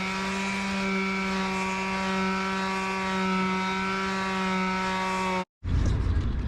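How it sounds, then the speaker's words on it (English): An electric sander with 60-grit sandpaper works over wood on a sailing yacht under restoration, its motor holding a loud, steady whine before cutting out abruptly near the end. "got some 60 grit sandpaper,"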